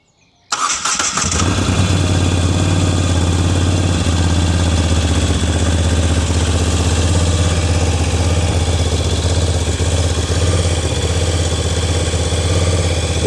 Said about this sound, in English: The sound of the engine is just perfect.